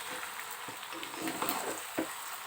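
Goat meat frying and being stirred in a pan while it is browned for a kala bhuna curry, a steady close sizzle broken by a few scraping stirs.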